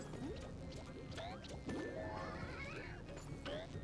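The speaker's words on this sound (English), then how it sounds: "These jellyfish make weird noises" Jellyfish making odd chirping, warbling noises in a SpongeBob video game, several rising and falling squeals and swoops, one longer wavering call, heard over a busy game soundtrack.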